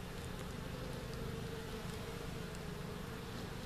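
Honey bees buzz continuously during a hive inspection, a dense, steady hum of many wings close by with a few individual bees droning louder as they pass.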